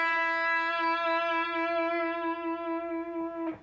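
A single sustained sung note with vibrato, clear with rich overtones, held for about three and a half seconds before stopping.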